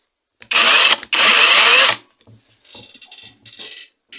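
A cordless mini chainsaw resembling a Makita runs in two loud, close bursts, a high whirring buzz that stops abruptly, followed by quieter clicks and handling noises.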